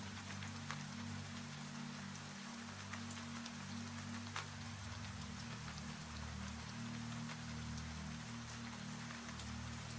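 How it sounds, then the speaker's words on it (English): Steady, soft rain patters continuously against windows at night, a diffuse even hiss of drops with a low background hum underneath, no voices. "The rain is still there. It reaches you now as a distant whisper against windows somewhere beyond the walls"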